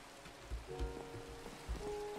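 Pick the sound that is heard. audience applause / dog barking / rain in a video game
rain in a video game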